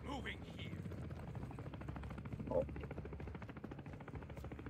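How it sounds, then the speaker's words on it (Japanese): A helicopter in Call of Duty MW3 Zombies hovers overhead in a level 3 zone, giving a steady low rotor rumble with faint chopping under continuous game noise, while players talk over it. "ヘリの音するけど"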